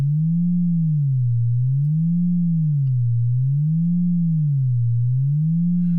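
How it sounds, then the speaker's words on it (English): A pure synthesized sine tone whose pitch slowly wavers up and down in a smooth, regular cycle, following an automation curve; steady, clean and alone, with no other sounds. "So literally the pitch is just following this track, this sine wave."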